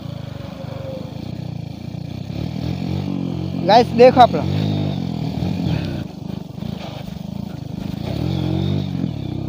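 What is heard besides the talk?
motorcycle being ridden for stunts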